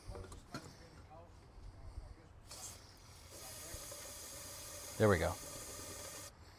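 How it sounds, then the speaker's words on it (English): Brake cleaner hisses out of an aerosol can into the exhaust back pressure tube of a 7.3 Powerstroke diesel, a steady, close spray lasting about three seconds, with someone speaking briefly during it. "Let's get some brake cleaner and shoot it in there"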